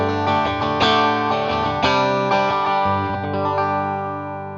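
Bright, clean electric guitar in a Fender-like tone, played through a Two Notes Captor X with reverb added, ringing out in repeated strummed chords and sustained notes that swell and decay, loud and close with no talking.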